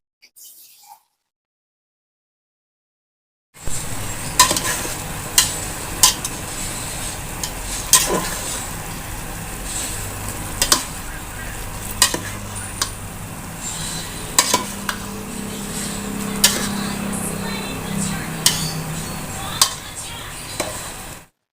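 Pansit bato noodles from Bicol cooking in a pan, with a steady sizzle and frequent scraping, clanking stir strokes close by, after a short near-silent opening.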